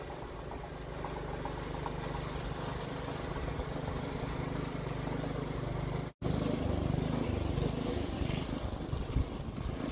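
A snowblower runs steadily on a clearing pass, its engine droning loud and close throughout, with a brief cut in the sound partway through before the continuous roar resumes.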